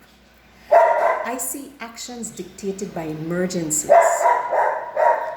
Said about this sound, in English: That's my dog. She's acting up.